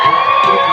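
A comedy club audience cheers and whoops loudly for a performer, a short dense burst of crowd noise with a few high shouts rising above the mass of voices.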